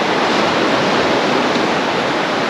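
Sea waves rush and hiss without pause along the Holderness coast beach at Hornsea South at night, the running tide making a loud, dense, close roar with no speech.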